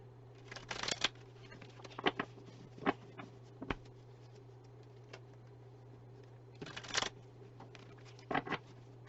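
Playing cards are riffle-shuffled in several short, crisp bursts over a steady low hum, with quiet taps and card handling in between during a reading.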